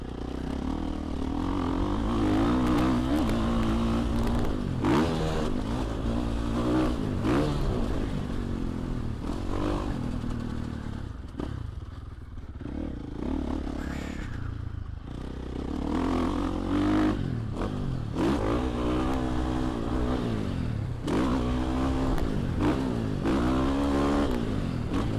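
A Factory Edition Husqvarna 450 dirt bike revs on a motocross track, a loud, close engine that rises and falls as it accelerates and backs off, with brief dips in throttle.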